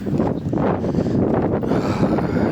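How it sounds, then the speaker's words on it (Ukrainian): Strong, cold village wind with frost buffets the microphone in heavy, roaring gusts that never let up, throwing leaves about. "Вітер ужас. Аж листом кинув."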